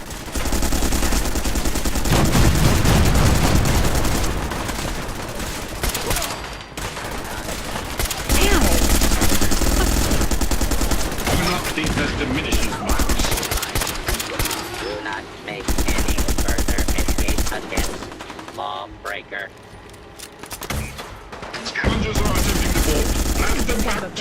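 Cannons and gunfire in a modded Fallout 4 video game, dense, loud volleys of rapid shots and heavy blasts in bursts, with voices talking over parts of it.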